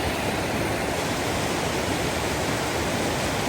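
Creek water flows in a steady, continuous rush at Ruby Creek, close and loud with no change across the clip and no voices.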